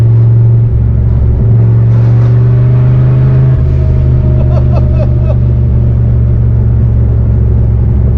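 Street car with a screamer pipe idling and revving with front and rear exhaust cutouts open, a loud, heavy low rumble that rises and dips in pitch, close and dominant throughout.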